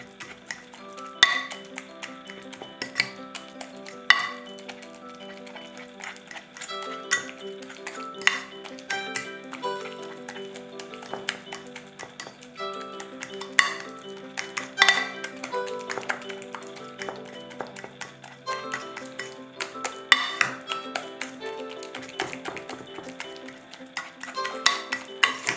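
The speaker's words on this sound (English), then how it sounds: "mash until there are no clumps or long strings of eggplant" Roasted eggplant mashed in a bowl, with repeated soft taps and clinks of a utensil against the dish, fairly faint, over a steady background of sustained tones.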